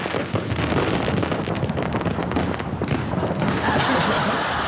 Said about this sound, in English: There's the official APEC fireworks over Sydney Harbour.